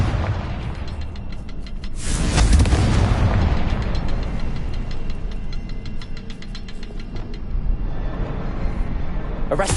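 Confringo spell explosion in Hogwarts Legacy, a sharp blast bursting out over continuous game rumble and a steady ticking background, loud and close.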